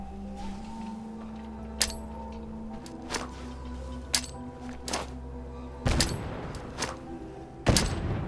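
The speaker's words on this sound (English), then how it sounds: "I'll lob a grenade." A thrown grenade explodes in a modded survival game of Fallout 4. Scattered thuds and shots lead into two heavy, sharp blasts near the end, with no talking.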